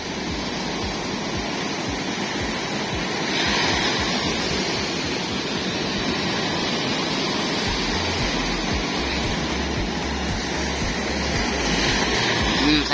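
Sea waves churn around a small boat out on the water, a loud, constant rushing wash close by with heavy low rumble and no clear speech.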